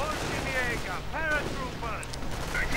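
Gunfire from a StuG IV assault gun and infantry in a WWII strategy video game, a few scattered bursts and shots heard under a commentator's talking.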